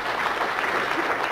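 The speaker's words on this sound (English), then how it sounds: "Big round of applause for me." Audience applause following a hypnosis healing demonstration, a dense, steady wash of many hands clapping at close range, filling the whole short stretch without any talking.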